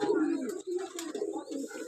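Domestic pigeons coo softly at close range, giving low, rolling coos in short repeated phrases that last about two seconds.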